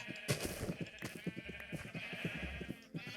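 Sheep in the Minecraft video game bleat repeatedly in quick succession, a dense run of short game-animal calls over a steady background tone, with no talking.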